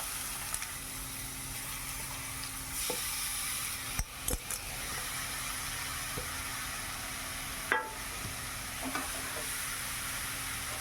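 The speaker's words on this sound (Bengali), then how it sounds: "ভাজা হয়ে গেছে, এবারে গ্রেট করা বিট আর গাজরটা দিয়ে দিলাম" Grated beetroot and carrot fry in a small wok for vegetable chops, a steady, dense sizzle close by, broken by a few sharp clinks and scrapes of stirring, with no talk.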